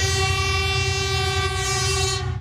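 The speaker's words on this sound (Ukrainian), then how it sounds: "До платформи підходить потяг зі сходу." A passenger train from the east pulls in at the Odesa railway station platform in the morning, a loud, steady rumble with a sustained horn-like drone running unbroken throughout.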